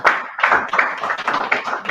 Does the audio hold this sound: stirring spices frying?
no